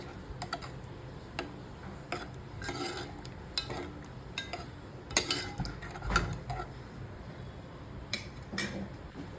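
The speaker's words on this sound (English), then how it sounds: "So you can just churn it one time and then mix it." A spoon scrapes and clinks against a pot while curds are stirred into Kashmiri dum aloo, with irregular close tapping and scraping strokes spread across the clip.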